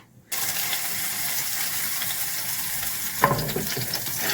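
Food sizzles and fries in a pan, a steady crackling hiss starting abruptly, with a brief clatter of stirring near the end and no talk.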